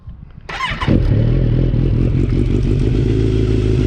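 Motorcycle, either a Suzuki GSX-R 750 or a Kawasaki Z900, cranking with a clattering starter before the engine catches and settles into a loud, close, rough idle.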